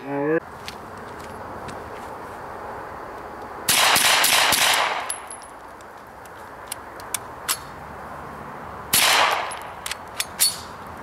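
A Suomi M-31 9mm submachine gun fires two loud, sustained bursts about five seconds apart, each roughly a second long, with a few sharp metallic clicks and handling noises in between.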